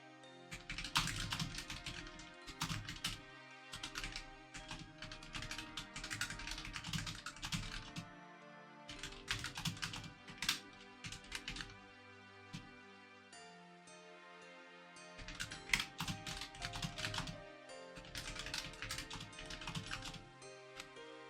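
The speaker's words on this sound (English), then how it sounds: "I'm just typing things up" Computer keyboard typing, close and continuous, in dense rapid bursts separated by short pauses, with no talking.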